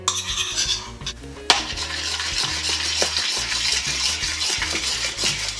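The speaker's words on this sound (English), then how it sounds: "potato and egg mixture in there, and the rest is just sort of mixing it in" Mashed potato and egg yolk mixture worked together in a pan with a utensil, continuous scraping and clinking with a sharp knock partway through, close and fairly loud.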